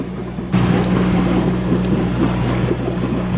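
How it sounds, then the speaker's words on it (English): Steady wind over a sailboat at sea, with a continuous low rumble and broadband rush that jumps louder about half a second in and then holds at a fairly even level to the end, with no voices. "There's a little bit of wind"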